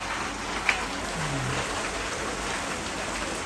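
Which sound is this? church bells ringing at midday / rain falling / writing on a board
rain falling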